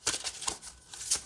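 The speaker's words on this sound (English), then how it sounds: "It shuffles just fine." Oracle cards are shuffled by hand in quick soft riffling bursts, a few brisk papery flutters close by and fairly quiet.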